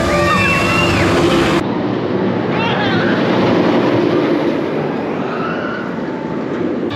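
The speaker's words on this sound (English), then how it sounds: "I do really like that roller coaster." The Zadra roller coaster train at Energylandia roars past in a loud, continuous rumble with rattling wheels, while people talk throughout.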